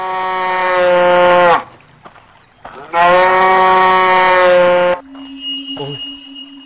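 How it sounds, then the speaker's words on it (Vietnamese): A cartoon cow moos in distress, two long, loud, drawn-out bellows separated by a short pause, followed by quieter tones. "sao lại có tiếng bò kêu thảm thiết quá"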